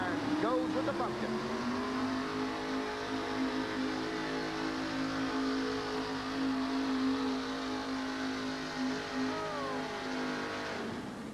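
The Pumpkin monster truck roars at full throttle during a USHRA pull in Albany, a loud sustained engine drone with a steady pitch that holds for several seconds before tailing off, and a crowd murmurs beneath it.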